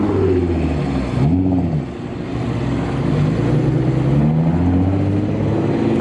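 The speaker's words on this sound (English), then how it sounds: "We got the Potts racing truck." A Potts racing truck at a Scottsdale Cars and Coffee exotic car show roars loudly and continuously close by, its engine revving with rising and falling pitch, with a brief dip in the middle.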